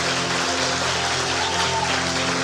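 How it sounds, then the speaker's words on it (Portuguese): Church congregation applauding for a communication team, a continuous broad wash of clapping heard over a steady low hum, with no speech. "dá uma salva de palmas para a minha equipe de comunicação"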